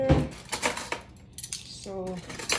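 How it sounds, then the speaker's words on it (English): Metal spoons being grabbed in a kitchen while preparing Tibetan white laphing, giving a few quick close clinks and rattles of cutlery with brief gaps between them. "I'm gonna grab some spoon here."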